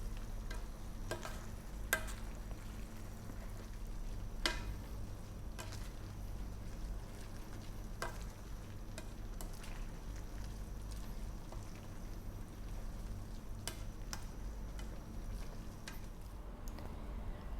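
Pancit canton noodles cook in a pan with a steady, low frying sizzle. Soft stirring scrapes and taps come through at irregular moments, with no talking.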